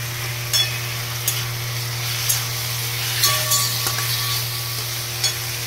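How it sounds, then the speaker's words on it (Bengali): Broccoli curry mixture stirred in a frying pan: a continuous oily sizzle with intermittent scraping strokes and light clinks of the spoon against the pan, close up, over a steady low hum. "ভালো করে মিক্স করবো"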